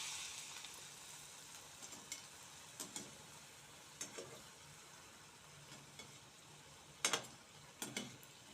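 Doi malpoya batter, a yogurt-based sweet fritter, frying in hot oil, with a faint steady sizzle broken by a few brief crackling bursts, loudest near the end.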